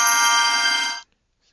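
A Back to the Future ringtone from the Zedge app plays loud, bright electronic tones that cut off abruptly after about a second, followed by near silence.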